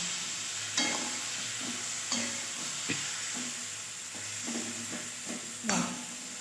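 Poppy seed and mustard paste going into a pan of sizzling fried onion stalks: a steady hiss broken by several sharp spatula scrapes and clinks, close and clear with no talking.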